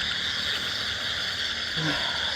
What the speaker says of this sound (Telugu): ఈ పక్కపండంతా చిన్న చిన్న కప్పలు ఉడుతున్నాయి